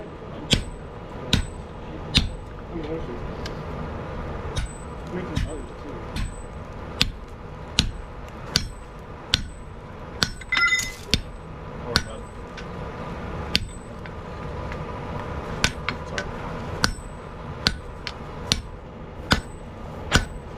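Sharp metallic hammer blows strike a tomahawk head made from a rasp to tighten it onto the handle, about two dozen ringing hits at an irregular steady pace, close and clear.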